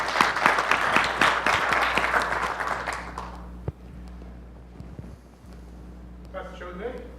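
Audience applause at a tech meetup talk on big data, a dense burst of many hands clapping over the first three and a half seconds, then fading into room murmur with faint voices.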